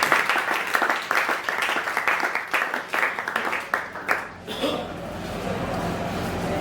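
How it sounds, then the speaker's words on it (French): A church congregation applauds together at an Assemblies of God service, a dense run of loud rhythmic clapping that breaks off near the end into a lower crowd murmur. "Acclamons pour les voix de foi."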